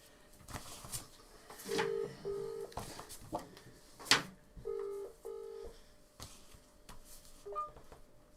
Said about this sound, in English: Oh, I'm phoning Mum back again.